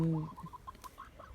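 Chickens clucking in a backyard coop, a few short soft clucks scattered over quiet background.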